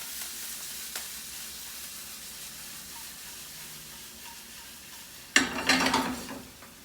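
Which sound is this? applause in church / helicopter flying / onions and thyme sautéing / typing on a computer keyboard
onions and thyme sautéing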